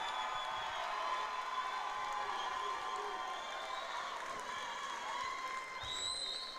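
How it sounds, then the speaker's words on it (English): A crowd at a Muay Thai event applauds and cheers the fighters in a steady, reverberant wash of clapping and voices, with a whistle-like tone rising near the end. "A round of applause for these fighters"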